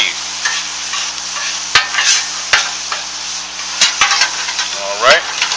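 Meat being chopped and fried on a griddle for a chopped cheese sandwich, with a steady sizzle under repeated sharp scraping knocks of a spatula or blade against the hot surface.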